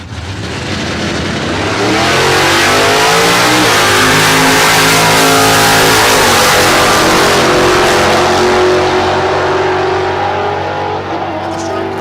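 Corvette in the 12.0 drag racing class at Texas Motorplex, Ennis, Texas: a loud, sustained engine roar builds and holds as the car accelerates hard down the strip, close and dominant throughout.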